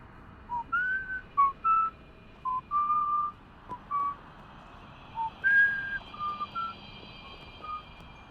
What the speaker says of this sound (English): And she's whistling a song, almost a little loudly.